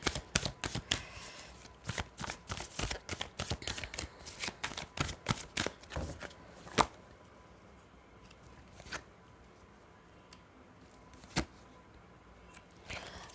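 Tarot cards shuffled by hand in a quiet room, a rapid run of crisp riffling snaps for several seconds, then scattered single card flicks and taps as the deck settles; close and without speech.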